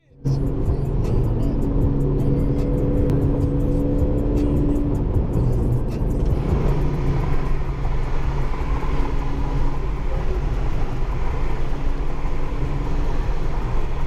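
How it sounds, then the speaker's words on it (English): Straight-piped Honda Accord 2.0T Sport exhaust while driving at night, a loud continuous droning rumble heard from inside the car, steady throughout with a faint voice underneath. "is this straight pipe? It is straight pipe."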